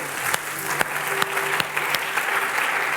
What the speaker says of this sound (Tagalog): Sige, palakpak sa Panginoon.